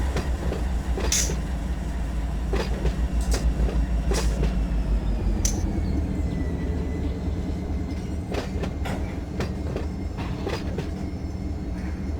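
A freight train rolls steadily in the Run 8 railroad simulator, with a constant low rumble, rhythmic wheel clatter over rail joints and occasional sharp metallic clicks and faint squeals throughout.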